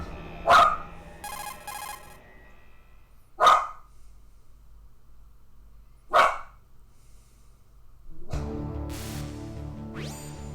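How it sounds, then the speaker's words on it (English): Dogs give three sharp, loud barks spaced a few seconds apart over quiet game background noise, followed by game music and sound effects starting up. "Can't control them barking."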